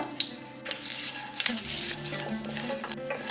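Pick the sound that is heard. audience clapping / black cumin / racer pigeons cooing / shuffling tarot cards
black cumin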